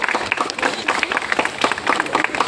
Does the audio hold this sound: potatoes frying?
no